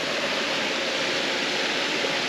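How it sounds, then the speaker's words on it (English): Mountain creek flowing down from Bayhorse Lake, a steady broadband rush of water at close range with no other sounds. "Right next to the creek that comes down from Bayhorse Lake."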